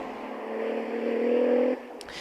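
A Radical race car passes at Spa-Francorchamps, its engine note rising into a sustained whine that builds, then drops off sharply as it goes by.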